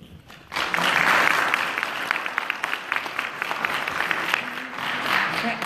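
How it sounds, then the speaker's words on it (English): An audience claps at a mayoral forum in a hall, a sudden burst of applause that starts loud and then carries on steadily with some individual sharp claps, no talk over it. "if you applaud in the middle, it cuts their time out"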